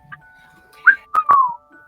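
A voice imitates a soft whistle: a few short, breathy whistled notes rising and gliding, close and fairly quiet, with brief pauses between them.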